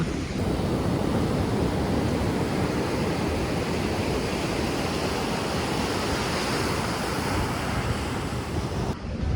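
Sea waves at Varkala beach in Kerala wash in as a loud, steady roar of surf with heavy wind buffeting the microphone, continuous and close, with no voices.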